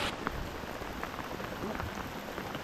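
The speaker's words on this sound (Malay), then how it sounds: "Hujan dah lebat pulak." Heavy rain pours steadily during a day of sea and river fishing, a dense continuous hiss of drops on surfaces with speech mixed in.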